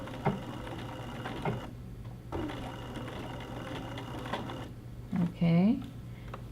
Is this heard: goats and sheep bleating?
no